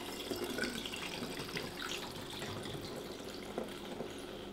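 Homemade cider pours through a freshly washed funnel into a bottle, a steady close trickling and splashing stream of liquid running continuously without talk.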